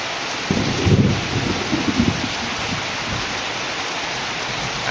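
Heavy monsoon rain pours steadily in a dense hiss while a low roll of thunder rumbles in the first half and fades under the downpour.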